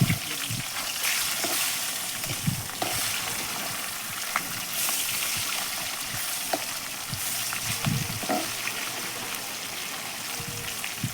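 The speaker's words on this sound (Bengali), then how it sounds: "এই মাছের এপিট ওপিট এপিট ওপিট করে ভাজা হচ্ছে।" Fish frying in a pan and flipped from side to side gives a steady, close sizzle and crackle, with small spatters and pan knocks throughout.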